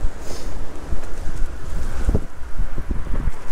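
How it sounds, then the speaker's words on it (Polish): Strong, gusty wind buffets the microphone of a bicycle courier riding on a city street in winter, a steady low roar with sharper thumps and surges throughout. "Ty, ale mnie wiatr wszystko ściąga na samochody."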